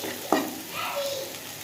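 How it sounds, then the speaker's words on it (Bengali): Fish frying in a pan in a Bengali home kitchen: a steady, soft sizzle with one sharp clatter near the start and a brief thin tone later, close by and moderately quiet. "মাছটা ভাজা হোক"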